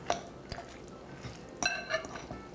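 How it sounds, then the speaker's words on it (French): Two forks mix shredded chicken with mayonnaise, producing quiet, sparse metallic clinks and soft scrapes in a few separate bursts against a near-silent background. "je vais mélanger le tout avec mes deux fourchettes"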